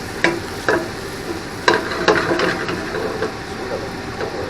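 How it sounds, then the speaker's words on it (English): Mushrooms searing in a pan with thyme, salt and pepper: a steady sizzle broken by several sharp scrapes and clacks of stirring, close and moderately loud. "So we're going to sear those pretty good"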